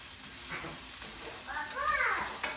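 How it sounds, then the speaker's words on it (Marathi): Onion frying in a pan in a home kitchen, a soft sizzle running beneath talking voices, with a brief louder clatter near the end. "तर आता मी कांदा फ्राय करून घेते"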